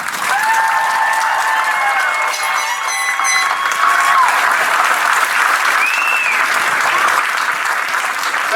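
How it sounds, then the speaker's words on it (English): Crowd at a 2022 high school graduation ceremony gives the graduating class a long, dense round of applause, steady and loud throughout, with scattered whistles and cheers rising over the clapping. "Let's give this graduating class one final round of applause."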